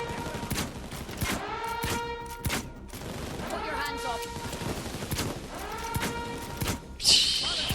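Rapid bursts of gunfire in PAYDAY 2 crack repeatedly across the clip, loud and close, with a voice talking between and over the shots.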